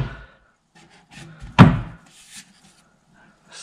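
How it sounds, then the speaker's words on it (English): A wooden drawer on a Kullen chest slides in and lands with one sharp thunk near the middle, followed by a few faint knocks, close by in an otherwise quiet room. "we're going to put the drawer in, slide it in"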